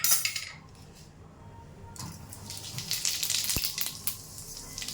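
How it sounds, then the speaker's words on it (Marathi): Cumin seeds crackle in hot oil with bay leaf, a soft sizzle under clinks of a utensil against the pot, close and fairly quiet. "जिरं बघा तडतडलंय"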